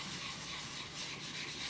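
Sandpaper rubs back milk paint laid over a wax or oil resist layer, a steady, close, unbroken abrasive hiss with slight surges in strokes throughout.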